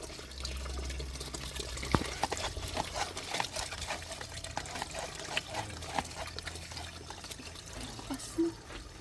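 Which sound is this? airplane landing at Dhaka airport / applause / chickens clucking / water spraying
water spraying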